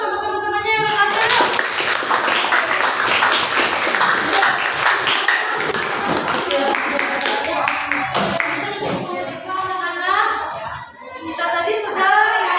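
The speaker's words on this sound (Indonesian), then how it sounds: "Silakan beri tepuk tangan sama teman-temannya yang lain." Classmates in a classroom clap for one another after a group singing performance, a steady patter of many small hands at moderate loudness, with children's voices and a teacher talking over and after it.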